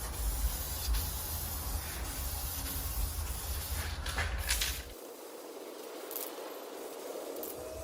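Aerosol spray paint hissing steadily onto a John Deere LA165 lawn tractor part in green, a close, continuous hiss that stops partway, leaving quieter background noise.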